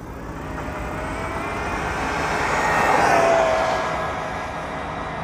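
An engine runs at full throttle in a steady, loud drone that swells slightly toward the middle and eases again, with no voices over it.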